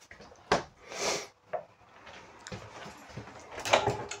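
A few sliding thuds and knocks of three drawers in the base of a 2024 Forest River No Boundaries RV being pulled open and pushed shut, spaced a second or so apart against a quiet room.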